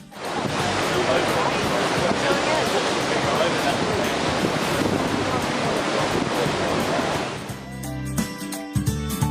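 Rough sea off the Ballestas Islands near Paracas, Peru, a loud, continuous roar of surf with heavy wind buffeting the microphone, breaking off near the end into quieter mixed sounds.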